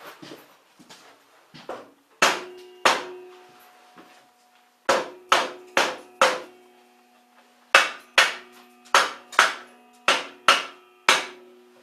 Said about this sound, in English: maybe if I beat that damn ice off, maybe it'll work for me